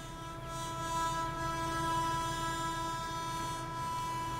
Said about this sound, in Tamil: ஏய், ட்ரெயின் வந்துடுச்சு